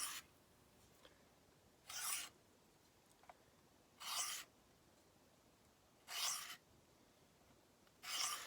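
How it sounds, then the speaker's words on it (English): A Benchmade knife blade is drawn across a Worksharp Guided Field sharpener outdoors on a rainy day, making four evenly spaced raspy strokes, each about half a second long. The strokes are faint and close, with quiet gaps between them. "So let's make a few runs on the Worksharp Field Guide, get it back to where we want it."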